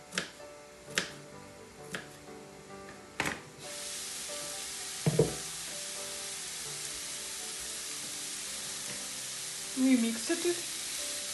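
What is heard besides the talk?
vegetables frying in a pan for borscht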